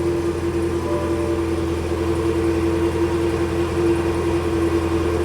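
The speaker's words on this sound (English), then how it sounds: "Okay, now that's the quiet mode. Now let's give it a second just to hit an idle." A Cadillac Blackwing's engine idles in quiet mode, a steady low hum with a faint whine held evenly throughout, close by and unchanging.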